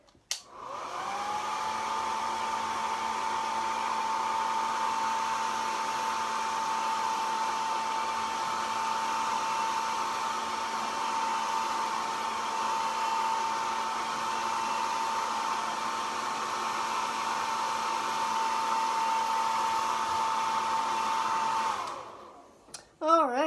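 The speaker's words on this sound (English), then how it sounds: "Get this one dry." A hair dryer runs close and loud for about twenty seconds as items are dried, its steady whine holding a constant pitch before it clicks off near the end.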